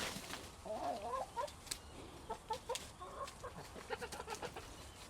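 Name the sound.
backyard chickens clucking while being fed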